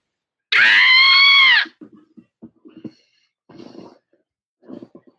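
A single long, piercing scream rings out for about a second, loud and strained, followed by scattered faint rustles and soft knocks.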